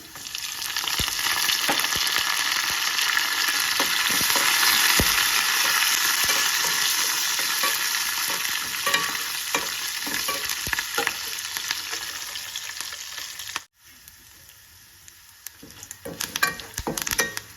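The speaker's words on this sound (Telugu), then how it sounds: "వెల్లుల్లి కరివేపాకు బాగా ఫ్రై అవ్వాలండి" Garlic and curry leaves fry in hot oil, a loud, close, continuous sizzle with scattered pops that briefly cuts out and returns quieter with crackles.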